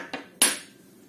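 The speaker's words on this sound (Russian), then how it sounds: "Сейчас я вилкой вот такие наколы сделаю, вот так вот, чтобы это для того, чтобы тесто не поднималось." A fork pricks rolled tart dough for a Tatar apple pie with meringue, giving two sharp, close taps, the second louder, then quiet.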